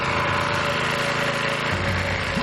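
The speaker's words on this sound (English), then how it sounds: "With a major oil leak, even Johnny has to admit that this engine's a clunker." A junky engine with a major oil leak runs hard, a loud, steady, rattly buzzing drone like a small motor, with no voices over it.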